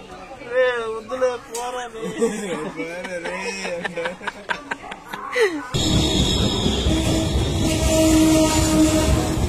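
A Guwahati–SMVT Bengaluru express train pulling into platform 4 at an Indian railway station, a loud rumbling roar of passing coaches that takes over after several seconds of someone talking.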